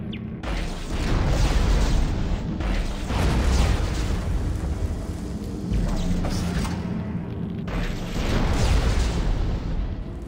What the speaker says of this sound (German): Ein großer Tank? Stickstofftrichlorid. Die explodieren, wenn sie zu heiß werden.